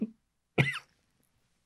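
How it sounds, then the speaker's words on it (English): A single short, close throat clearing in an otherwise quiet room, preceded by a faint breathy sound. "as soon as I clear my throat"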